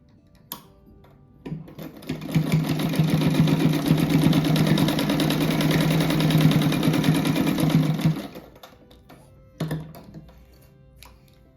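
A sewing machine stitching strips of fabric for a rug with a flip-flop design runs in one steady, loud whirring burst for about six seconds, stops, then gives a short second run near the end, with no talking.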